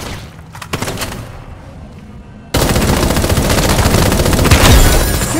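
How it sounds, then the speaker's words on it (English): Rapid automatic gunfire from the Super Mecha Champions mobile battle royale game, starting with scattered shots and then breaking into a loud, continuous barrage with heavy thumps, no talking. "Shots heard!"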